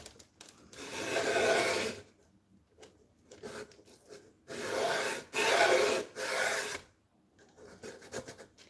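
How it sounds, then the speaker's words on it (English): The side of a paddle pop stick pushes and rubs resin onto a tissue box cover, making dry scraping, rasping strokes in several bursts with brief pauses between them, close and fairly quiet. "Just using the side of a paddle pop stick here to really push it down"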